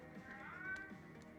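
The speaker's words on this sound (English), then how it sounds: "Hear my cat go cuckoo in the background." A pet cat meows faintly in the background of a quiet indoor room, one short drawn-out call with no talk over it.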